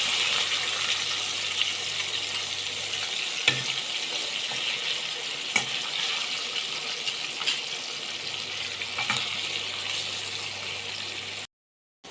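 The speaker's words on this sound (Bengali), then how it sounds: "কড়াইতে মাছ ভাজা হচ্ছে" Koi fish frying in hot oil in a wok, a soft steady sizzle with a few faint clicks and taps, quiet and continuous until it cuts off abruptly near the end.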